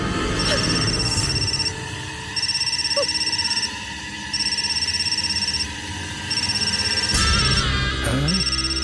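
An electronic phone ring repeats in steady bursts of high warbling tones, with brief gaps between rings, over low background noise.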